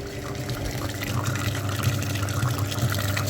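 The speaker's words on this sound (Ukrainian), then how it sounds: "Отже, миємо ще передній радіатор." Water sprays and splashes in a constant rushing wash over the front radiator of a VW Golf 3, a steady close hiss with a low hum beneath, no talking.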